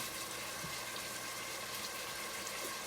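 Running water rinses out a cooking pot at a home stove, a steady broadband wash that stays even and continuous throughout, fairly close with no talking.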